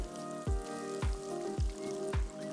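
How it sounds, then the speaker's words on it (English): Bread rolls deep frying in hot oil over a medium flame, a steady bubbling sizzle punctuated by four evenly spaced low thuds, close and moderately quiet. "Gently drop in the bread rolls. Deep fry the bread rolls in batches of 3."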